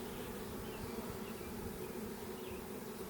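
A Carniolan honey bee colony humming around its hive, a dense, steady, close buzz of many bees that holds unbroken from start to finish.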